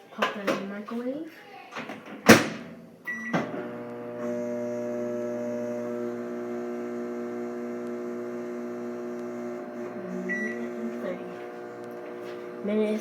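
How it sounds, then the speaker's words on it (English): A kitchen microwave hums steadily while cooking chicken nuggets, its door shutting with a loud thump before the even, buzzy drone settles in and continues alone at a moderate level, with talk at the start. "I got it cooking in the microwave"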